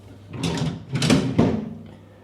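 Hotel room drawers in a budget Pattaya hotel slide open and shut, giving a few close wooden scraping strokes ending in a firm knock.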